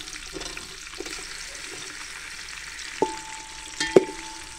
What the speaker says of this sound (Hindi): आज गर्म हो चुका है, इसमें प्याज शामिल कर देंगे।